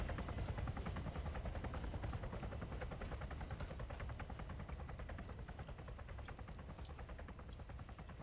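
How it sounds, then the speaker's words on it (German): Helicopter flying in the Arma 3 game, Exile mod on the Esseker map, a steady dense rotor chop and engine roar holding loud and constant throughout with faint higher clicks. "Die fliegen nur mal mit ihren verdammten Heli rum und looten die Autos."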